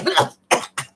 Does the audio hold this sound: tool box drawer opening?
no